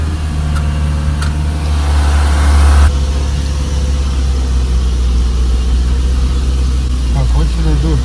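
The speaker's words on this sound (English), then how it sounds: "The car is backing up." A car reverses along a narrow, tight road in Montenegro, its engine idling low and steady close by, with a brief rise in engine noise early on, while people talk over it.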